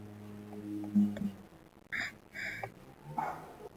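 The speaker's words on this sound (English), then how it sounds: "Sorry about all the barking" A few short dog barks and yips sound at moderate distance, separated by brief pauses, over a quiet background with a low hum.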